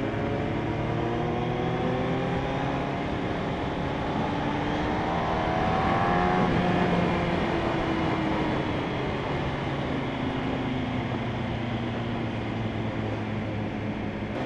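A Kawasaki ZZR1400 motorcycle ridden at speed, its engine droning steadily under a constant roar of wind, with engine tones rising and falling gently. The sound is loud throughout and there is no talking.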